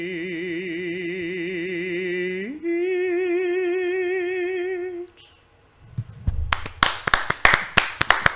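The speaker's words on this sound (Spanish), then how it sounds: "el aplauso se siente hasta aquí" After a long, sustained wavering vocal note and a brief hush, a burst of loud, evenly spaced hand claps rings out near the end, crisp and rhythmic rather than a dense crowd roar.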